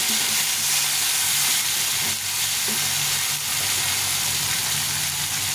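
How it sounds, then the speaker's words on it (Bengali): Chopped tomato fries in a pan over onions with a steady, loud, close sizzle and hiss, with a few faint stirring scrapes and no talking. "টমেটোটা একটু ভেজে নেবো"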